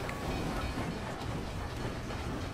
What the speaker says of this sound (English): I got run over by the train.